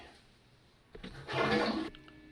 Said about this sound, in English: let's flush the putty